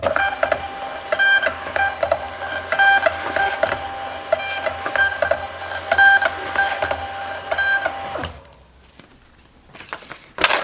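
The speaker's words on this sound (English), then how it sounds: "Let's try to print multiple copies and see what happens." A Rollo thermal label printer runs off five shipping labels in a row, a fast rhythmic whirring with repeated mechanical pulses, close and steady, then drops to quiet near the end before a final burst.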